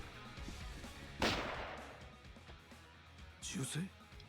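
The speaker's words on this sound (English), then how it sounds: "Hearing a gunshot anywhere is not good." Gunshot in the video game Yakuza 5: one sharp, loud crack followed by a fading tail, then a second burst of noise, with a person talking over the game audio.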